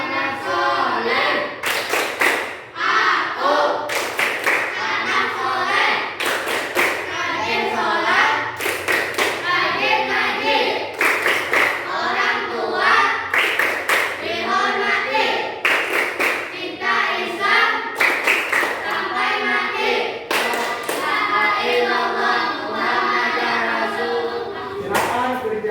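Classroom of children performing the Tepuk Anak Soleh clapping chant, sung voices over a steady rhythm of loud, sharp group claps repeating in regular bursts for the whole stretch, close and energetic.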